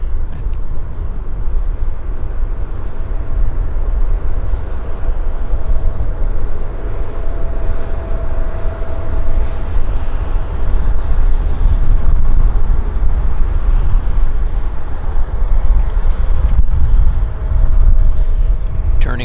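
A Delta Embraer jet roars through its takeoff at Vancouver airport, a steady, heavy engine rumble sustained throughout from a distance, with a person talking over it at times.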